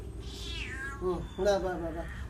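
A cat eating fish meows several times up close, drawn-out, wavering cries following one another in quick succession.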